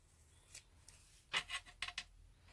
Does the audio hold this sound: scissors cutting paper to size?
yes